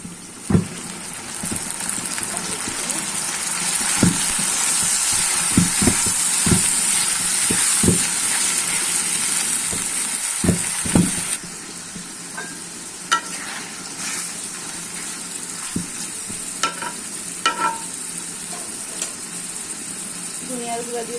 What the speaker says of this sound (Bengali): পেঁয়াজটা কিছুক্ষণ ভাজা ভাজা করে নিয়েছি। এখন আমি বাকি মশলাগুলো একে একে দিয়ে দিব।